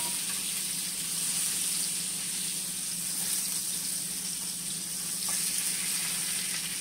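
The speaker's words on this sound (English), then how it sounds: "Make sure all sides are seared." Chunks of beef searing in a hot pan for caldo de res, a steady even sizzle hissing throughout at moderate volume with no talking.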